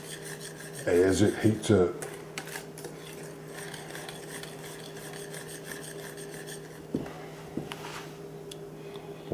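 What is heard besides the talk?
stirring hot fudge in a pot as it melts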